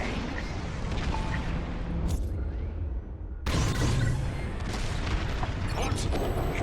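Heavy, rumbling bomb blasts roll through a Star Wars Squadrons starfighter raid, a dense, continuous roar with a brief lull before another loud burst of explosions.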